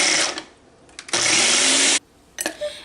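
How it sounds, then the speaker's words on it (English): A blender whirs through salad dressing in loud bursts: a short pulse at the start, a steady run of nearly a second, then a brief final spurt, with quiet gaps between. "So let's blend this and see what it tastes like."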